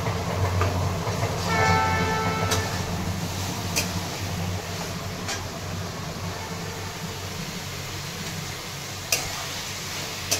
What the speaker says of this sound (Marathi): रेल्वे चालली